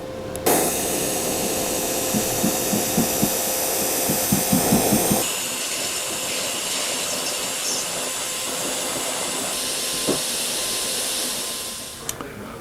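Custom lake exhaust headers being welded, with a steady loud hiss and crackle of the arc sustained for about twelve seconds and some clanks early on.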